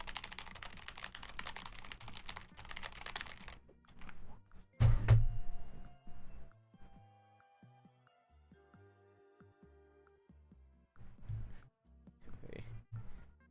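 Rapid clattering keystrokes on a computer keyboard for several seconds, then a loud thunk and sparse quieter clicks, with short bursts of other noise later.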